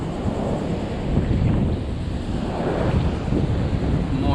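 Rough storm surf and gusting wind during Hurricane Dorian on a sea turtle nesting beach, a loud continuous roar of crashing waves and wind buffeting the microphone, with no voices.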